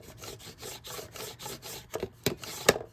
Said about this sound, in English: let me burnish it again